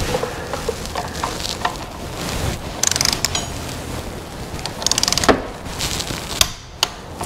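A wrench tightens the T45 wheel stop screws on a BMW R1200RTW motorcycle to 19 newton meters, producing clicking ratchet creaks and metallic ticks in irregular bursts, close and fairly quiet, with no talk.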